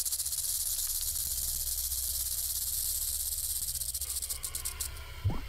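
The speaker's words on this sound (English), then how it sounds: "The older the rattlesnake gets, the longer its rattle." A rattlesnake shakes its tail in a continuous dry buzzing rattle, steady and faint against the surroundings, with a few small knocks toward the end.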